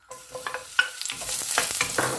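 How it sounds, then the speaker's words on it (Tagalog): Vegetables stir-fried in hot oil in a pan for an egg noodle dish, with a rising sizzle and irregular clattering stirs and scrapes close by, growing busier toward the end. "stir fry a little bit"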